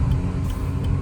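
Steady low engine and road rumble from inside a 2002 Saturn L200 driving on a highway, continuous and even with no talking.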